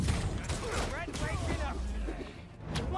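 Gunfire from armed paparazzi in the PS5 game Spider-Man 2 (2023), a dense fusillade of shots running under a continuous bed of game noise and voices.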